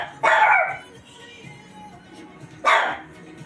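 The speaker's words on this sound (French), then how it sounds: "c'est la première fois qu'il aboie à la maison" A puppy barks twice indoors at home, two short sharp barks a couple of seconds apart, fairly close, with quiet room noise between them.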